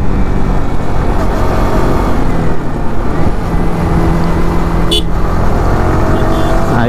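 A red Yamaha R15 V4 motorcycle is ridden fast down a road, its engine and wind roar loud and constant, close to the rider, with no voices.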